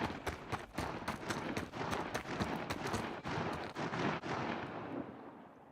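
Turret gunfire from a spacecraft in Star Citizen, a string of sharp, rapid shots coming in uneven bursts, moderately distant and fading out toward the end, with no talk.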